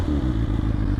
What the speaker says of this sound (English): That's the cold start.